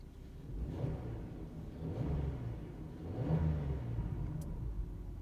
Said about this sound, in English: And go ahead and give it a quick rev.